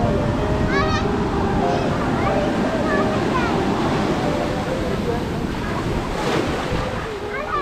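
Sea waves at Mahabalipuram beach on the south Indian coast wash and roar steadily in a broad continuous surge, with wind buffeting the microphone and faint bird-like calls and distant voices mixed in.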